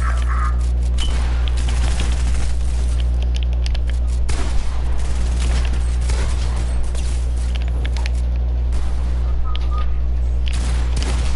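Rapid gunfire in a video game, bursts of shots and booms scattered over a constant low engine-like hum, with brief voices in the mix.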